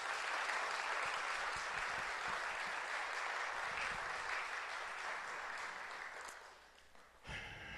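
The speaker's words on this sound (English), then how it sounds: "Give them another round of applause," Sustained clapping from a crowd, loud and steady for several seconds before tapering off near the end.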